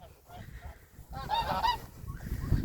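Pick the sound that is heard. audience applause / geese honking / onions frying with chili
geese honking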